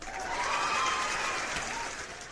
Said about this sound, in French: Je vous demande un tonnerre d'applaudissements pour Fabtag.